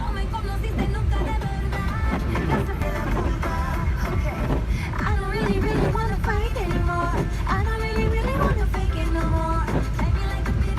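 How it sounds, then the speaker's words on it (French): A favourite song plays over a car stereo during a traffic jam, a steady mix of music with melodic lines and a strong low end filling the cabin, with road and engine rumble beneath. "je voulais vous faire écouter cette chanson que j'adore"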